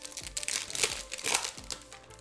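Yu-Gi-Oh booster packs pulled from a display box and torn open, giving close, continuous foil crinkling and crackling with a few sharper rustles and a low hum underneath, no talking.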